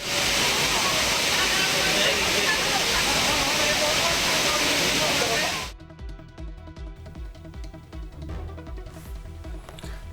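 The Courtallam main waterfall in Tenkasi gives a loud, steady rushing roar for about six seconds, then the sound cuts abruptly to a much quieter, sparser background.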